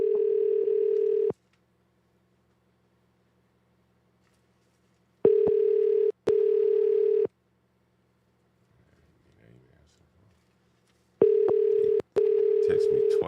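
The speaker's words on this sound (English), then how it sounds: "Let me call this guy back." Steady telephone tones sound while a call back is placed, three loud sustained bursts separated by long silences, with a brief faint murmur in one gap.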